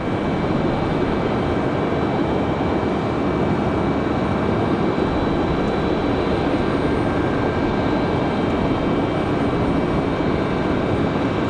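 An American Airlines jet, flight 3033, roars on takeoff from runway 23 right at Raleigh Durham, a loud, steady, unbroken engine rumble with a faint high whine, carrying on alone for the whole stretch.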